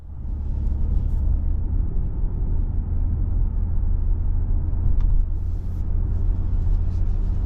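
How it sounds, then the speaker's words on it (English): Cabin of a 2024 Nissan Murano SL AWD driving on the road, a steady loud low rumble of engine and road noise holding constant throughout with faint rattles, no talk. "we're on the road in this 24 Murano SL all-wheel drive"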